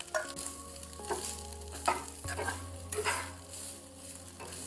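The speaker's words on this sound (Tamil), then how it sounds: "தேங்காய் துருவலை போட்டு வறுத்தெடுத்துக்கோங்க." Grated coconut fries in ghee in a pan, with a steady low sizzle, several clinking stirs of a spoon against metal, and a hum in the background, with no talking.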